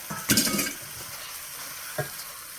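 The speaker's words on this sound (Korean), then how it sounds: "여기 아까 썰어놓은 묵은지를 저는 알타리에 했습니다. 이걸 볶아주세요." Aged radish kimchi being stir-fried in plenty of perilla oil, a close scrape-and-sizzle burst followed by a steady hiss and one later clink of utensil on pan.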